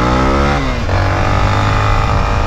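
A brand-new Honda XRE-300 motorcycle revs hard during a wheelie, its engine note climbing, dipping briefly, then holding a loud, steady drone up close.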